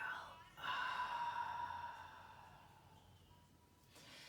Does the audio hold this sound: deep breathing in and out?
yes